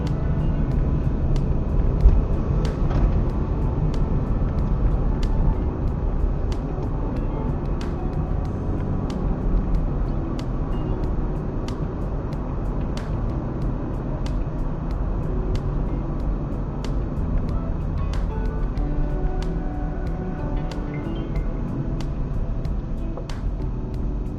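Steady engine and road rumble from inside a car driving on a road between Mohali and Panchkula via Chandigarh while overtaking, a constant low drone with faint ticking.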